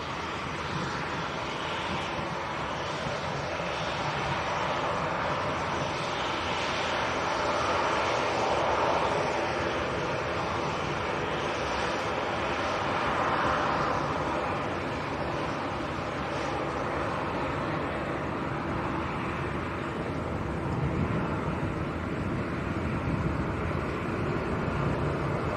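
A Jet2 Airbus A321neo airliner departs Leeds Bradford Airport off runway 14, its engines a broad, sustained roar that swells and eases slightly over nearly half a minute, steady and fairly distant with no voices.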